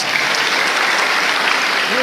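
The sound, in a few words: audience clapping at a university lecture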